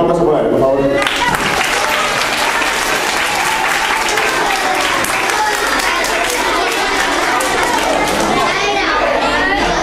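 A large crowd of children and adults claps and cheers loudly for a world-champion acrobatic spinning-top performer at a live show, sustained applause with excited shouts filling the whole stretch.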